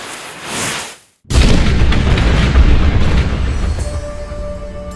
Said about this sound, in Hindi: घबराए अंग्रेजों ने तोप चलाने का इशारा किया।